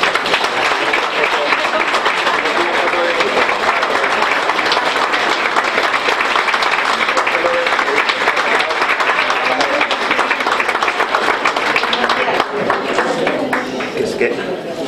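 An audience applauds loudly after a commemorative plaque and bouquet are presented by the mayor at the Graus town fiesta. The applause is a dense, sustained roar that carries on for about fifteen seconds with only a slight easing at the end.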